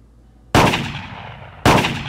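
Two loud, close shotgun blasts about a second apart, each with a sharp crack and a decaying boom, fired at clay targets in the Clay Hunt video game.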